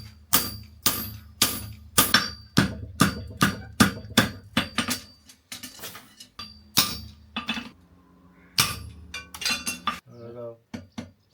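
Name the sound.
farrier hammering clips on a horseshoe with a clipping hammer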